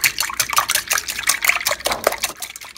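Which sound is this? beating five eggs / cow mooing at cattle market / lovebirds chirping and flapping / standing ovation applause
beating five eggs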